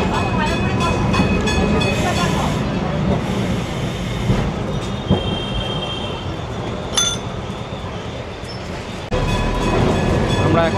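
A Kolkata tram runs along College Street past the book market, its steel wheels rumbling and clacking with squeals, sharp screeches and a loud clang, the sound heard from on board.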